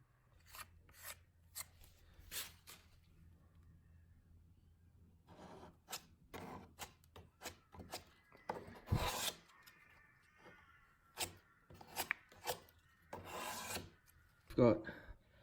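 A hardened fingerboard skatepark ramp surface is sanded by hand in short rasping strokes, quiet and close, with irregular scratchy bursts separated by pauses and a faint hum in the background.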